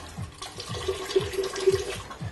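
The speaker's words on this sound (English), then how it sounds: "Then what we're going to do is add the lemon juice." Lemon juice, about 25 to 30 ml, is poured into a Singapore Sling gin cocktail, making a steady liquid trickle with soft repeated glugs, close by and with no talking.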